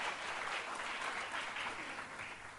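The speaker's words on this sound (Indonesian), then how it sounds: "tepuk tangan bagi Tuhan" Congregation applauding during a fasting prayer worship service, a dense continuous roll of clapping that holds steady and eases slightly toward the end.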